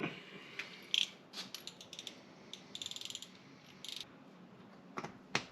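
Tools clicking and ratcheting while spark plugs are handled on a Porsche 944, a sparse run of small metallic clicks, taps and short bursts, close and fairly quiet.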